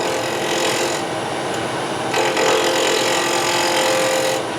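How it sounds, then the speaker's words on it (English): A woodturning gouge, held at about 45 degrees, cuts into spinning wood on a lathe while a scoop is shaped, giving a steady, close, loud rasping hiss with slight swells as the tool pressure changes. "The gouge is positioned about a 45-degree angle, and I'm literally just moving the handle backwards."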